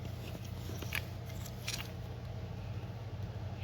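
Scissors or snips cutting a part for a Nissan Hardbody D21 fuel cell, giving a few faint, brief snips over a quiet low hum.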